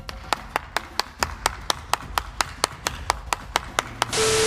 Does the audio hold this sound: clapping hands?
yes